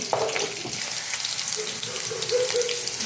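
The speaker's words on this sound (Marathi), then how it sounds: "तेल टाकलेलं आहे मिरच्या मोहरी जिरे विसरली होती जिरे मोहरी प्रथम टाकायला" Green chillies, mustard seeds and cumin frying in oil for a chutney, a close, steady sizzle with bubbling and a few light spatters, no talking over it.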